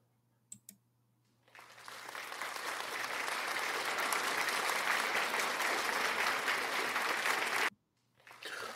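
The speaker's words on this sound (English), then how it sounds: "I don't know why they're still clapping" Steady audience applause at a live Salem witch show, a broad wash of clapping that swells in and holds for about six seconds before cutting off abruptly.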